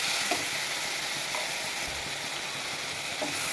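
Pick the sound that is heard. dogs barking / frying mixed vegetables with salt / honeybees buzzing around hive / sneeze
frying mixed vegetables with salt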